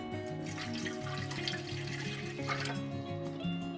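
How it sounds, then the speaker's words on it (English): Water, about one and three-quarter cups, poured into a bowl for homemade bread dough: a steady splashing trickle, close and fairly soft, running throughout with faint background music. "the first thing that I'm going to add in is 1 3/4 cup of water"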